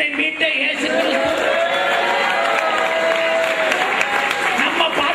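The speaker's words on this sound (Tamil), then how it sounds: "எவ்வளவுதானாக்கும் கைதட்டு நல்லா இருக்கு." An audience at a Levites church camp in Bangalore claps steadily for several seconds, a loud, dense wash of applause with some cheering, while music plays underneath.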